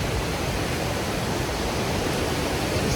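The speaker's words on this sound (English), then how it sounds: "There's the waterfall." Ozone Falls roars as a raging waterfall swollen by days of rain, a dense, unbroken rush of falling water heard loud and close.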